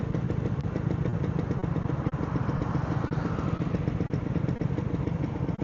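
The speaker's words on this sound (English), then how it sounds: "Just hear that scooter, lovely." A two-stroke scooter engine rattles close by, a loud, steady buzzing clatter with a rapid pulsing rhythm that holds throughout on a street near Sittingbourne train station.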